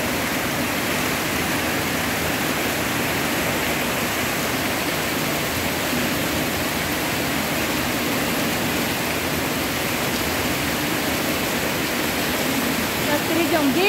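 A water cascade at a swimming pool's massage station pours steadily, giving a dense, continuous, roaring hiss that stays level and close throughout.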